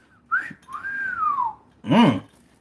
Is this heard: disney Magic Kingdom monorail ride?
no